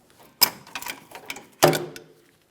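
Nut being removed from the rear shock mount of a Toyota Tacoma, two sharp metallic clicks with brief ratcheting and rattling between them, close and alone.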